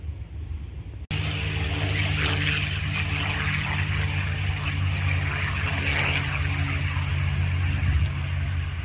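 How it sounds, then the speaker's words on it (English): A small propeller-driven paratrooper plane flies over the props and piston air show in Akron, Ohio. After a brief click, its engine drones steadily and fairly loudly for several seconds with no talk. "And there comes that little plane, the paratrooper plane."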